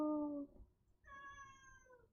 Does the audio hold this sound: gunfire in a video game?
no